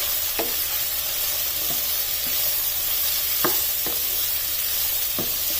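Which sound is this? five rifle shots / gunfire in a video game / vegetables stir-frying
vegetables stir-frying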